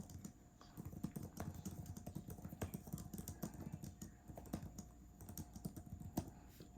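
Steady typing on a Samsung Galaxy Tab S8 Ultra or Tab S7+ keyboard case: a dense run of quick, soft plastic key clicks close by, with no talk over it.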